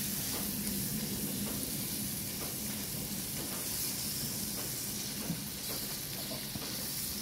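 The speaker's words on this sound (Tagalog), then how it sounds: "Pwede na natin ilagay ang ating ground beef para masabay na sa gisa." Ground beef sautéing in a pan with the aromatics, a steady close sizzle and frying hiss running throughout with occasional stirring clicks.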